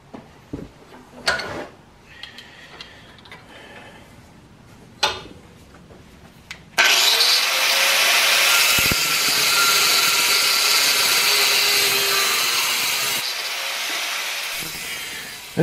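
A 1/8 inch steel flat bar being cut into short pieces in a workbench shop, heard as a loud, steady cutting roar lasting several seconds after some light clanks and handling knocks, then stopping.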